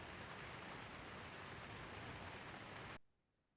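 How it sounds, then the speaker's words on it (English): A rain sound effect plays as steady, dense hiss-like patter of rainfall, even and fairly loud, then cuts off abruptly into near silence at the end. "We get some rain."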